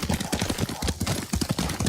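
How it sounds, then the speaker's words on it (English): Horse hooves clip-clopping in the Ghost of Tsushima video game, a steady rapid trotting rhythm, loud and close over a dense bed of game ambience and music. "Lord Sakai taught me to ride a horse"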